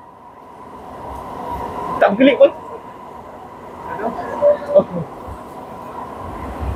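Inside an MRT train on the Putrajaya Line in Malaysia, a steady rumble of rail travel fills the carriage while passengers chat in short bursts over it.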